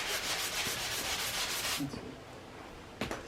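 Rapid back-and-forth scratching of sandpaper on wood, close and steady, stopping partway with a short rub after a pause.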